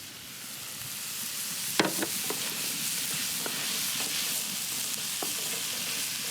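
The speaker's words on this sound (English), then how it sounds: "now I'm going to add the wild mushrooms" Wild mushrooms are added and stirred into a vegetable paella sizzling in a pan on a grill. A steady, close frying hiss runs throughout, broken by a sharp scrape and a few light spatula taps.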